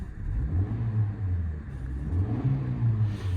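A Suzuki Ignis 1.2 Dualjet four-cylinder engine revs up and down in smooth swells, rising and falling in pitch with a steady low hum beneath.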